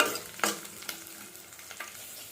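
Ingredients for palak paneer rice frying and being stirred in a pan, with a close sizzle under a few scraping strokes of a spoon and no talking.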